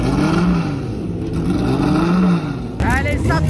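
Historic race cars pull away at the Dijon-Prenois circuit, their loud engines whining and rising in pitch, close by, with voices talking over the roar.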